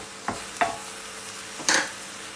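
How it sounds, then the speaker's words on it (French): Porcini mushrooms (cèpes) cook in a pan until their water is gone, giving a faint steady sizzle with three short scraping stirs, the last one longest and loudest. "je vais les faire cuire comme ça jusqu'à ce qu'il n'y ait plus d'eau"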